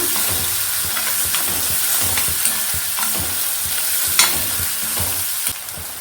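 Ginger garlic paste with turmeric frying in a pan while being stirred, a steady loud sizzle with repeated scraping strokes of the spoon throughout.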